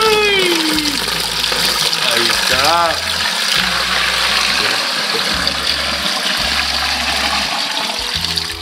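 Homemade fruit drink gushes steadily into a container, a continuous loud pouring that runs throughout while people talk and laugh over it.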